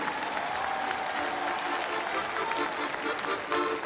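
An audience at a concert applauds an ensemble, dense sustained clapping from a full hall throughout.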